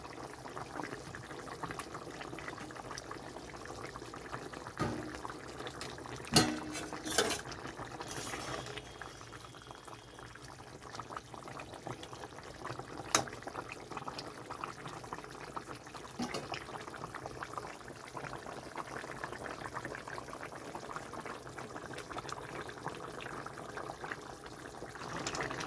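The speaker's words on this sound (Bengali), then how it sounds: "তো এখানে ঝোলটা ভালো মতো ফুটে গেছে তো ভাজা মাছটা দিয়ে দিচ্ছি।" Thin rohu fish curry broth simmering in a pot, a quiet continuous bubbling with occasional small clatters and splashes, faint and steady throughout, without speech.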